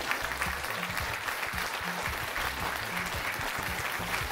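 Audience applause at a stage show, a steady dense clapping from a large crowd that holds at full strength throughout, with no break or fade.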